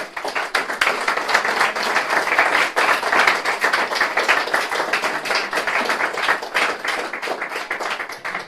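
A church congregation applauds after a sermon, dense continuous clapping from many hands that holds steady for several seconds without talk.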